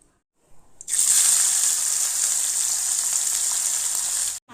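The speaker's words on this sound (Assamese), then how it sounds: "মাছটো ফ্ৰাই কৰি ল'ব আগতে" Small fish rubbed with salt and turmeric frying in hot oil for an Assamese fish curry, a loud steady sizzle that starts abruptly after a brief quiet and holds close and continuous, with no talking.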